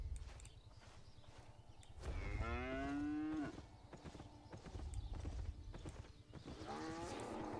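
A cow moos in the video game Albion Online, with two drawn-out lowing calls over steady clip-clopping hooves, and a third moo beginning near the end.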